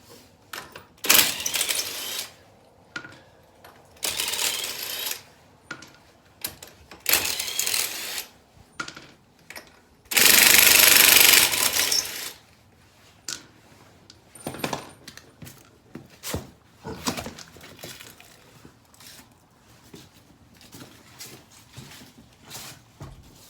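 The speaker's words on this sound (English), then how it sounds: "all we're gonna end up doing is just taking the wheel off" Bursts of a power tool spinning lug nuts off the wheel of a jacked-up truck fitted with 35-inch tires, several short whirring runs and one longer loud burst, mixed with metallic clinks and clatter between them.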